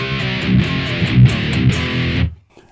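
A distorted electric guitar plays metal riffs with the mids scooped further, giving a harsh, hollow tone with palm-muted chugs and ringing notes. It is loud and steady, then stops abruptly near the end.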